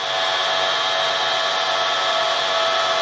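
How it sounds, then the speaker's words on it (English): Milling machine cutting metal held on a rotary table, a loud, steady whining grind with bright high tones, continuous throughout with no talking. "Milling away"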